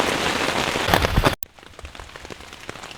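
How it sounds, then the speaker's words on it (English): Rain patters on a tent during kayak camping as a thunderstorm ends: a dense, loud wash of drops first, then an abrupt drop to softer, scattered pattering close overhead. "Just rain pitter-pattering on the tent."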